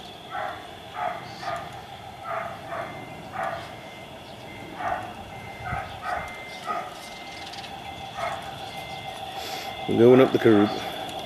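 A dog barks repeatedly in a steady series of short yaps, somewhat distant, with a brief voice near the end, outdoors beside a radio-controlled Tamiya Scania R730 truck.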